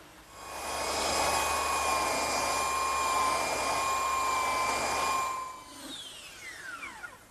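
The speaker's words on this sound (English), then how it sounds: "I like to use a slightly smaller belt sander to do these edges because it's easier to hold" A slightly smaller handheld belt sander runs steadily on the edges of a wooden coffee table in a workshop, a loud even whine holding for about five seconds before it cuts off and winds down.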